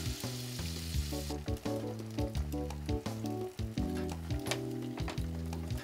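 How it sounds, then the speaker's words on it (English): Egg frying in melted butter in a frying pan over a medium flame, a steady sizzle under a soft background music bed, with occasional stirring or scraping sounds; no one speaks. "Melt some butter in the frying pan and add half an egg for one portion."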